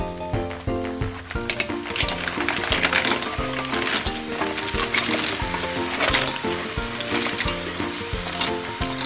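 Tahong mussels cooking in a hot pan give a continuous crackling sizzle with stirring, partly masked by steady background music.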